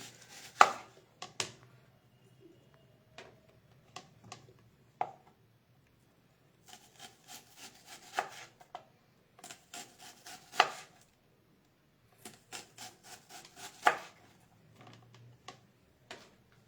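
A knife chops hybrid tomato and other vegetables on a cutting board, sharp irregular knocks in short bursts and clustered runs, close by and fairly quiet, with pauses between rounds.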